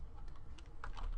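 Fingers type steadily on a computer keyboard while code is written, a run of close, quick clicks of uneven rhythm with no talking.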